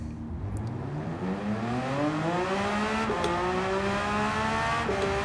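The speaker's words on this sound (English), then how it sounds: "I'm going slow and I still spin out" A race car in Gran Turismo 7, driven with no assists, spins out as the engine note climbs and stutters through shifting revs and tire scrub. It sounds loud and continuous, with no talk.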